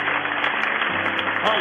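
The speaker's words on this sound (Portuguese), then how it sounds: "Um demorado aplauso ao Deus das excelências" A church congregation applauds at length after a sermon on ministry, a dense continuous clatter of many hands with a low sustained tone running underneath.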